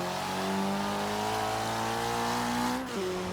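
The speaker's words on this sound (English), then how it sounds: "This is genuine, honest to god exhaust note" A rough, buzzing Ford Sierra Cosworth rally car exhaust in Forza Horizon 3 drones steadily at high revs, loud and continuous, with a brief dip near the end.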